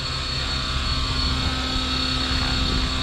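An Align T-Rex 550X RC helicopter hovers in sport mode at 70% throttle, giving a steady loud buzzing whine with a constant motor tone and rotor drone and no pauses or talking.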